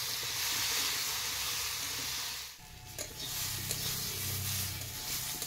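Mixed ground spices sautéing with vegetables in a pot over very low heat, a steady close sizzle that drops briefly midway, then returns with faint scraping and stirring, no talk.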